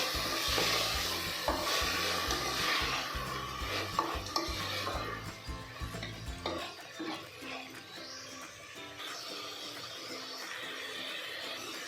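Vegetables and salt for bisibele bath frying in a pan, with sizzling and clattering spoon strokes against the pan that stop partway, leaving a quieter hiss.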